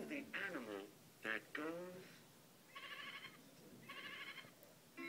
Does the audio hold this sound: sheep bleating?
yes